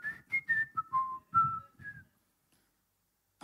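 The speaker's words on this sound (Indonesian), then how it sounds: "Sambil bersiul-siul" A person whistles a short, bright tune of about eight quick notes lasting two seconds, close and clear, followed by silence.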